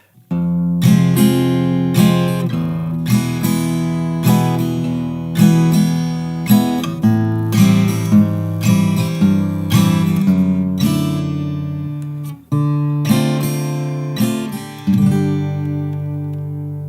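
Acoustic guitar chords of a song's pre-chorus strummed in a steady rhythm, each chord ringing out clearly with occasional pauses, played alone and close.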